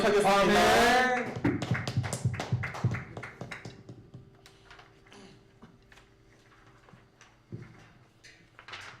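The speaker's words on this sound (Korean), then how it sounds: "하나님께 영광의 박수 드리도록 하겠습니다" At a Sunday worship service in a Korean church, a voice rings out briefly, then a congregation claps in loose, scattered strikes that thin out and fade over several seconds.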